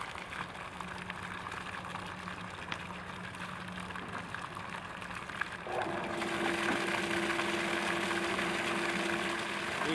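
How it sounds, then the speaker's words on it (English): An above-ground sand filter pool pump hums steadily, then water starts rushing harder midway as it backwashes, and the motor noise grows louder and fuller, running continuously. "And it's going to spray all kind of water out and clean that sand."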